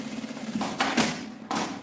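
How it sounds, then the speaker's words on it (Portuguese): A sewing machine stitches a seam on a fabric toiletry case, a close, steady motor hum broken by a few louder mechanical bursts as the needle runs. "E passa a costura."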